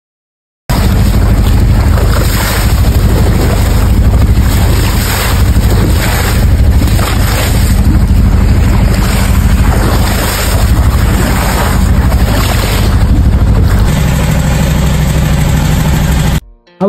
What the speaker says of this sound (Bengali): হাউসবোটের কেবিনে বসে জলের শব্দ, বাতাসের ঝাপটা